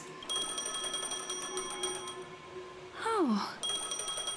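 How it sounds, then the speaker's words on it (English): A phone rings inside the video game Honkai: Star Rail, an electronic ring of repeating bright tones with a short musical chime, moderately loud; a voice briefly exclaims once. "A phone."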